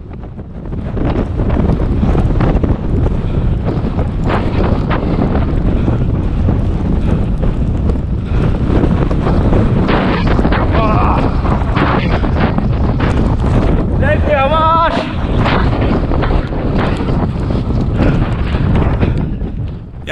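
Strong headwind buffets the microphone steadily and loudly during a 10 km road race, a constant roaring rush with brief gusty surges throughout.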